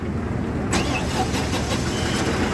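A John Deere 5405 CRDi tractor engine kicks in after a brief quiet start, then runs with a steady mid-pitched chug at close range and a fairly loud level, with no voices over it.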